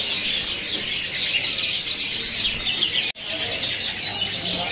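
Chirping and calling from many caged birds at a bird shop selling Javan shrikes, a dense, continuous high twittering chorus with a brief dropout partway through and no talk.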